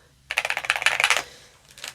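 Rapid typing on a tan computer keyboard, a quick burst of close crisp key clicks for about a second, then a couple of fainter taps after a pause.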